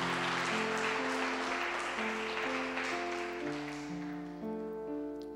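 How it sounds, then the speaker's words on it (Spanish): Applause from a church congregation during a bilingual service, a broad wash of clapping that sustains throughout while steady held organ or keyboard chords sound beneath it, fading slightly near the end. "just give it a big applause to the Lord."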